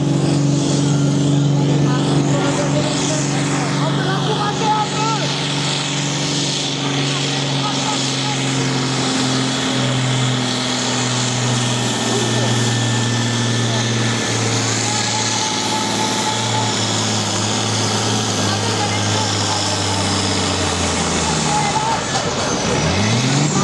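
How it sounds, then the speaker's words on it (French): A John Deere tractor at a tractor pulling event in Cudrefin, its engine roaring loud and steady with sustained low harmonics for over twenty seconds, pitch dropping near the end, amid crowd noise and an announcer's voice. "Avec le tracteur John Deere"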